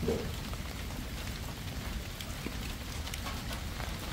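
Steady rain patters on a surface with scattered drop ticks over a constant low rumble, continuous throughout.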